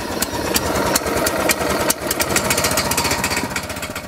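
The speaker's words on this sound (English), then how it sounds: "Turn the key and away she goes." A DR Power Wagon's small engine runs roughly just after starting, a loud, close, uneven chugging with rapid pulsing beats and a brief dip partway through, heard alone.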